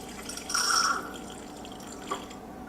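Drinkworks Home Bar machine dispensing a chilled mixed drink: a brief hissing, gurgling burst of liquid flow near the start, then a quieter trickle with a small drip or click toward the end, close up.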